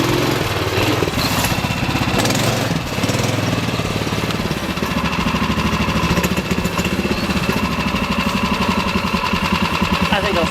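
A ROKON motorcycle engine labours loudly and steadily while climbing rough terrain and up against a wall, its throbbing mid-pitched drone continuous throughout and close by.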